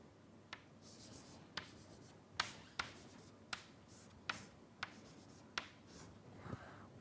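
Chalk taps and scrapes on a board at a lecture on statistical mechanics, making sharp, faint clicks about once a second against a quiet room hum.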